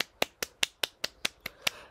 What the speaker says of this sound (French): Ça, moi, il faut que je vous applaudisse.